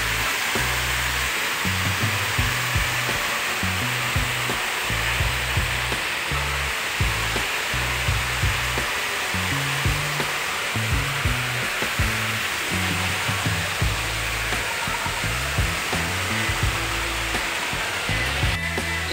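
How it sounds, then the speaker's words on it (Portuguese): A washing machine agitates a load of clothes, washing baby layette, with a steady rhythmic low thumping churn under a constant watery hiss. It carries on evenly throughout with no talking. "tô esperando a máquina terminar de bater as outras roupas"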